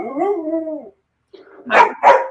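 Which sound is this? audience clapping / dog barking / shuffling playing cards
dog barking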